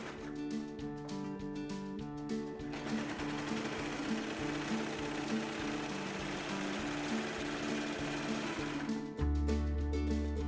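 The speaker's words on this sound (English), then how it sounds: "We can also finish our seams by using our serger or overlock machine." A serger or overlock machine runs steadily while finishing the seams of a pillowcase, giving a continuous close mechanical whir with a humming tone. The sound grows louder and heavier near the end.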